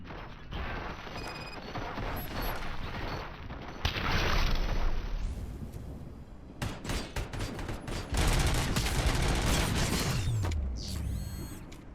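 Gunfire in the RoboCop: Rogue City video game crackles in dense rapid bursts, mixed with clanking mechanical clatter and metallic impacts, loud and busy over a steady game soundscape, with no speech.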